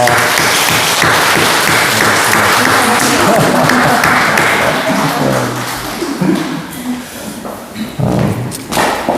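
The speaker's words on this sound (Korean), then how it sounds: "우리 환영과 축복의 박수 하겠습니다" Congregation applauding in welcome during a church service, loud sustained clapping that thins out after about six seconds into scattered claps and thuds.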